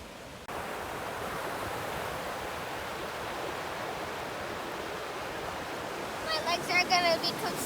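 Pacific Ocean surf at the beach in Ocean Shores, Washington, makes a steady, broad hiss of waves washing in, with a faint voice briefly audible near the end.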